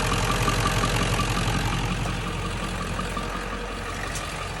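A 1997 Ford F350 with the 7.3L Powerstroke diesel idles with a knocking, chattering noise blamed on a failing alternator, a steady loud close-up rumble with a fine rapid rattle running under it the whole time.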